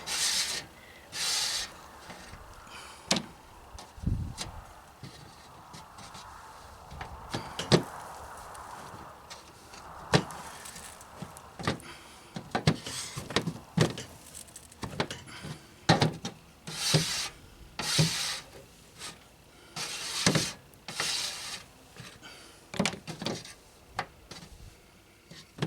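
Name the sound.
rubber spatula pushing excess oil out of felt in a tray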